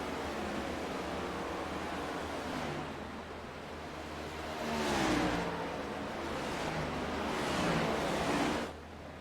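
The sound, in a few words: race cars driving at Pocono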